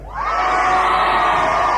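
A packed crowd at a secret Robbie Williams gig in a London venue, loud sustained cheering and high-pitched screaming swelling in and holding steady, with no talk over it.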